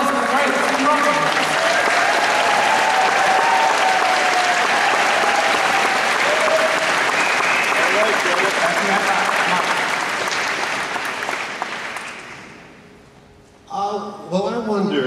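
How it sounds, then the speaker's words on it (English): A large audience at a Q&A event breaks into loud, sustained applause for actor Tim Robbins, steady for about twelve seconds before thinning and fading out, then a voice begins speaking. "Round of applause for the great Tim Robbins."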